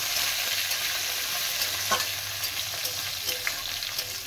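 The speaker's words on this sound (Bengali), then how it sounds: "এবারে এটাকে আমি একসঙ্গে খুব সুন্দর করে রান্না করে নেব" Bitter gourd and fried potato curry sizzling in a pan, a constant close crackle of frying with a few sharp scrapes of stirring scattered through, no voices.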